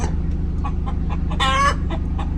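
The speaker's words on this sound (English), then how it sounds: "That's the chicken laying song." A hen in a farmyard gives her egg-laying song at dawn, a run of loud clucks and a rising cackle near the middle, close by over a steady low hum of background noise.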